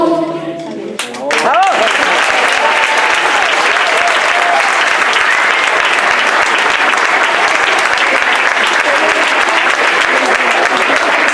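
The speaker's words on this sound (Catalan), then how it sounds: "us agraïm la vostra presència i els vostres entusiastes aplaudiments" A school audience applauding after fifth-grade children sing Christmas carols, a brief voice at the start, then loud sustained clapping from a large crowd that fills the room without a break.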